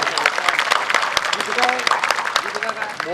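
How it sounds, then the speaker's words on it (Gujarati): A village audience at a Gujarati dayro gathering claps, a close burst of dense applause that continues throughout with some voices mixed in. "તો ફરી એકવાર સૌ બધા મળીને એક સાથે તાળીઓના ગડગડાટથી એ કર્મવીરોને, કર્મદાતાઓને વધાવી લઈએ આપણે સૌ."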